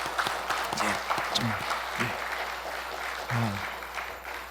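Applause from a congregation in a church during a Sunday service, soft and somewhat distant, with a voice speaking over the clapping.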